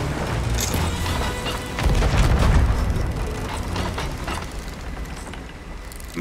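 A cannon fires a cannonball in the pirate video game Sea of Thieves, giving a single low, muffled boom with rumbling mechanical noise around it and no talk.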